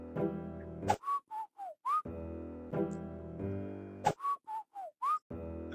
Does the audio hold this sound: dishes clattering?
no